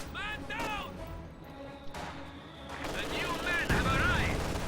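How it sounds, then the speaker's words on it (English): Heavy mortar fire in a World War II strategy game booms in several muffled thuds amid battle noise, while a voice talks over the action. "There's the heavy mortar from Paul."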